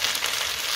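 Potatoes fry in an aluminium pan over a full gas flame, giving a steady, close hiss of sizzling that stays even and unbroken throughout, with no talking over it.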